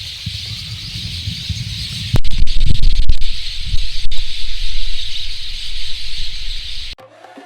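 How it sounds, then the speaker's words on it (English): Countless lovebirds chatter and chirp in a dense, hissing chorus at a dry waterfall in the Namibian desert, with rustling and rumbling nearby handling noise over the steady high twittering. "That's the sound of millions of birds who've found a little bit of water in a stark desert"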